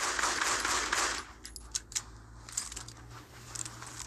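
Gunfire in a zombie video game: a burst of rapid automatic fire up front, then scattered single shots and short pops over a low steady game hum.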